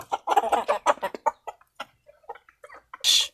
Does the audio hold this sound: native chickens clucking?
yes